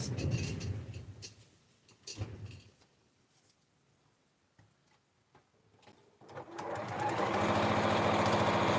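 A sewing machine stitches quilt pieces, running in a short rapid burst, pausing through a quiet stretch, then starting again in a loud, steady close run.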